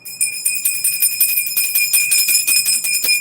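A handheld bell rung rapidly and repeatedly, bright sustained ringing tones with a quick jangling rhythm, close and loud, alone without talk.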